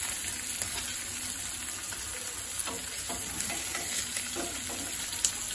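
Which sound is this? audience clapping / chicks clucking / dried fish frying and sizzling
dried fish frying and sizzling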